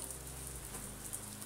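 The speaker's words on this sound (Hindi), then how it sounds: "दोस्तों बहुत ज़्यादा बारिश आ रहा है, बहुत ज़्यादा, बहुत तेज के आ रहा है।" Heavy rain pours outdoors as a steady, dense hiss that stays constant and close throughout, with no voices over it.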